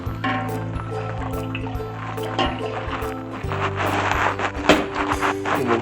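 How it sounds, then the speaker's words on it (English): Diluted rennet solution in non-chlorinated water is poured slowly into a shallow pot holding a gallon of milk for mozzarella, giving soft liquid trickling and splashing under a steady low hum, with a few clinks. "Now we're going to add our rennet solution that's diluted in a 1/4 cup of non-chlorinated water."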